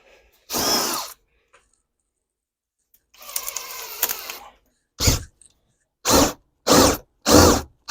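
Power drill boring holes into an N scale model railroad layout, heard as one short burst, a longer rougher run, then several brief bursts in quick succession, close and loud with no talk.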